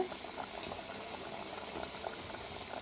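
Okra and onion stew (bendakaya pulusu) bubbling in a pot in a village-style home kitchen, a steady soft simmer with scattered pops, heard alone with no talk.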